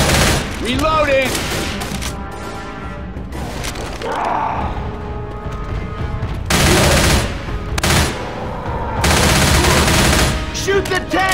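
Rapid bursts of automatic gunfire and heavy booms from a Left 4 Dead 2 match on Xbox 360, loud and repeated in clustered volleys, with players shouting over the shooting.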